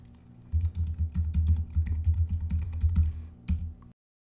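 Rapid keystrokes on a Mac keyboard as a command is typed into Terminal, a close, steady run of light clicky taps lasting a few seconds before stopping abruptly.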